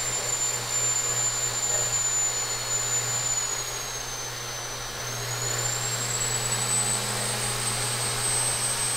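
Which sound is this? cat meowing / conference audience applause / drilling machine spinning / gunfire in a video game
drilling machine spinning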